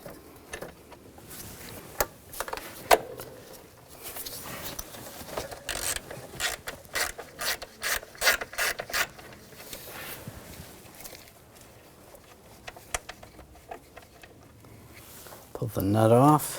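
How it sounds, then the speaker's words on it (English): A ratchet on a 13mm socket clicks in quick repeated bursts, close by, while loosening the alternator nut on a 2000–2006 BMW X5 3.0L L6, with pauses and handling noises between runs. "now we're going to loosen up the nut"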